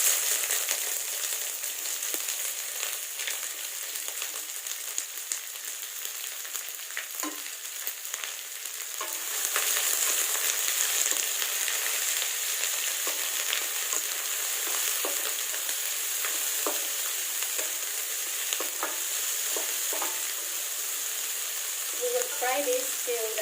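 Onion sizzles steadily in a hot pan with cinnamon, a continuous bright frying hiss with occasional crackles and light stirring clicks, close and fairly loud, with no talking.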